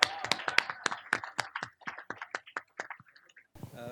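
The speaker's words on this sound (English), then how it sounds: "Boys and girls, a big round of applause for your next head teacher." Children clap for the incoming head teacher at a Grade 7 farewell luncheon, a quick burst of sharp, close claps that thins out and fades over a few seconds with no talking.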